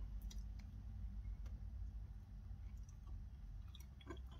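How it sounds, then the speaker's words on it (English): Someone chews a matcha mochi roll dusted with powdered sugar, close up, with soft sticky bites and small clicks over a low background hum. "It's really hard to chew."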